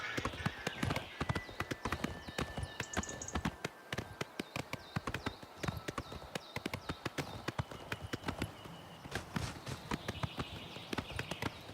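Horse hooves clip-clop steadily in a brisk, continuous rhythm while riding in the video game Oblivion, with a wash of background ambience and music behind the hoofbeats.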